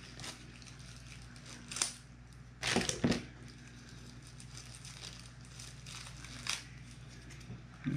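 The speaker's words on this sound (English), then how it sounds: "Shove that damn plastic off." Plastic packaging is pulled open and torn off a GoPro mount, making a few close crinkles and sharp crackling rips over a quiet room hum, with no talk.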